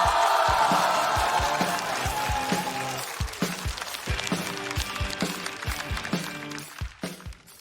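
Studio audience applauding and cheering to welcome a comedian onto the stage at a stand-up comedy show, a dense wash of clapping that swells at first then thins into scattered claps with music beats underneath.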